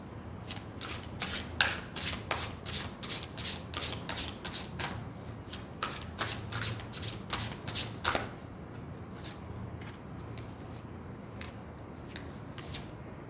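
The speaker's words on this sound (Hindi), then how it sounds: "तो सबसे पहले कार्ड शफलिंग और ग्रुप डिवीजन कर लेते हैं।" Tarot cards are shuffled by hand in quick, crisp riffling bursts that repeat through most of the stretch, fairly close and quiet, with no voices.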